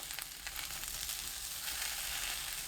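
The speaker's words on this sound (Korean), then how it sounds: "팬에 올리브유 1큰술, 방울 양배추, 마늘 넣고 센 불로 1분 30초 볶습니다" Brussels sprouts and sliced garlic sizzle in a tablespoon of olive oil in a pan over high heat, a steady, bright crackling fry heard close up with no talking.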